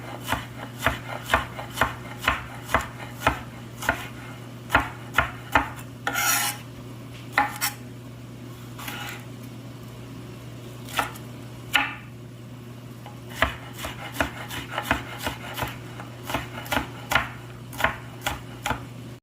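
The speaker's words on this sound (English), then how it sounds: "I cut them up in 4 pieces, and then you're going to chop them up" A knife chops jalapenos into thin slices on a board with steady, crisp, close taps, quick runs of strokes broken by brief pauses and a scrape, over a low steady hum.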